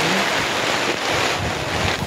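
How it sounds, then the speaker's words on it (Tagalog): Strong wind roars steadily and loudly on Mt. Lantik, buffeting the microphone with a dense, unbroken rush of noise throughout. "Medyo malakas yung hangin."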